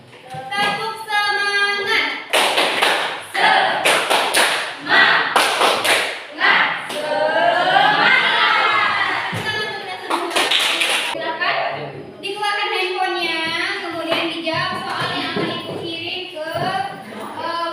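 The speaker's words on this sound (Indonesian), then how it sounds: "Coba tepuk semangat dulu. Tepuk semangat." Indonesian classroom children perform the tepuk semangat clapping chant, rhythmic bursts of hand claps and taps mixed with loud children's voices chanting, led by a teacher.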